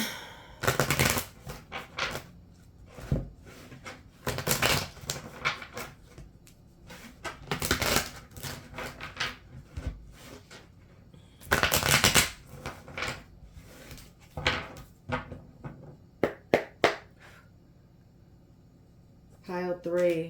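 A tarot deck is shuffled quickly during a reading, brisk bursts of crisp riffling and card slaps that come and go in irregular clusters with quiet gaps between.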